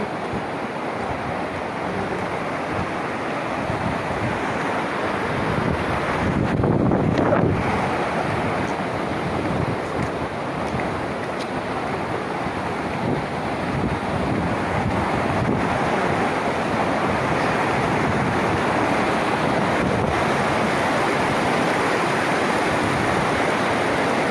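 A strong, rocky river churns continuously, a loud, steady roar of waves with wind buffeting the microphone.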